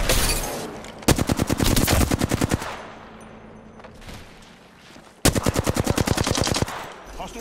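Video game gunfire plays in two long, rapid automatic bursts, loud and close, with a short lull and scattered shots between them.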